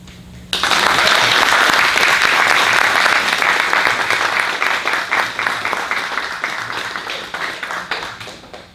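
Audience at a Texas ceremony, a kick-off for a traveling exhibit on 19th-century Black legislators, breaks into sustained, dense applause that begins abruptly and stays loud throughout, easing slightly toward the end.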